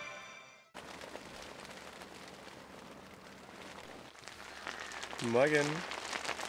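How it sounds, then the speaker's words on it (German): Steady patter of rain drumming on a tent's fabric close by in Ireland, with a voice briefly speaking over it. "Es regnet immer noch und das eigentlich jetzt die ganze Nacht durch."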